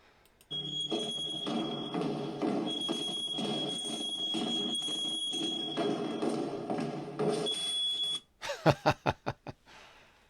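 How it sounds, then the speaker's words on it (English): A steady high electronic tone sounds intermittently over a broad rumbling background for several seconds, then a series of sharp rhythmic clacks follows. "Is that a smoke alarm or a fire alarm?"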